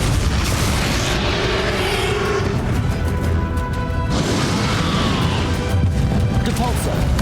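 Confringo fire spell blasts in the Hogwarts Legacy battle against the dragon Ranrok: loud booming explosive crashes over dense game noise and music, with a voice speaking in the mix.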